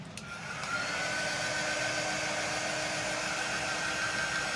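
A heat blower runs steadily, drying a coat of black chalk paint on a Christmas fireplace craft; a constant, close, even airy whoosh with a faint tone, starting with a brief click and holding alone without talk.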